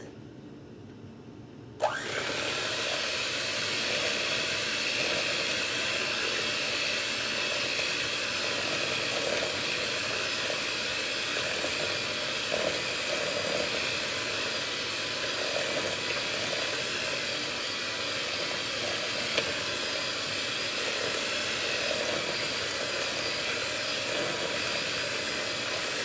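An electric mixer starts up and whirs steadily and loudly for over twenty seconds while mixing buttermilk into butter yellow cake batter in a home kitchen.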